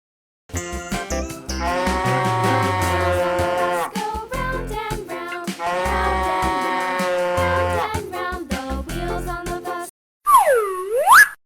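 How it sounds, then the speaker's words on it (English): A cow moos over a long stretch of harmonic music that sounds like a children's tune, then a short bouncy cartoon-style sound effect closes it. "Cow."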